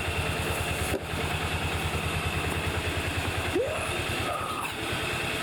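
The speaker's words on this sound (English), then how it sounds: "But I got that dialed in, and she's idling real good now." A Kawasaki FE400 engine in a Bobcat Pioneer utility vehicle idles at close range with a fast, even putter, steady throughout with a couple of brief squeaks.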